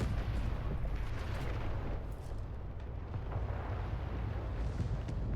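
In a video game, a bomber air strike hits tanks on a hill, producing a dense, rumbling barrage of explosions. The low booms roll continuously and sound muffled and distant.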